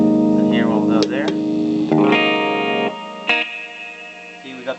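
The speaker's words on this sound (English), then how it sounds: "we got the reverb, and then distortion" Electric guitar played through reverb and distortion effects, with sustained, heavily processed chords ringing loud and close, several strums and decaying swells in sequence.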